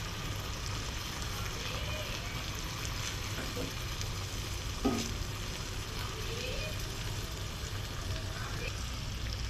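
Pabda fish cooking in mustard masala, being turned in the pan: a soft, steady sizzle with faint scraping and stirring, fairly quiet throughout.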